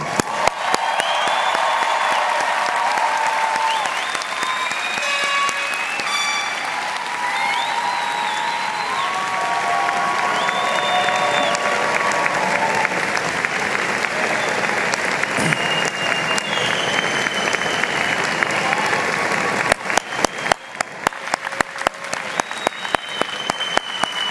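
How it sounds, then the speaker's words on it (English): Graduates at the 2017 Drexel College of Computing and Informatics commencement ceremony receive a long, loud, steady round of applause from a large crowd, sustained throughout with a few scattered cheers mixed in. "let's have one more round of applause for all of our graduates"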